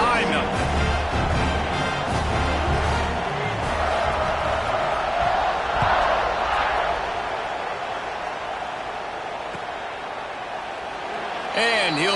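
A college football stadium crowd roars loudly during a kickoff after an extra point, with a broad, sustained wash of cheering. An announcer talks over it, and the crowd noise eases slightly toward the end.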